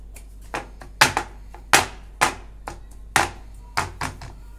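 A cake tin of chocolate cake batter is tapped on all sides to settle it, giving about ten sharp, distinct knocks at an uneven rhythm, close and crisp against a quiet room.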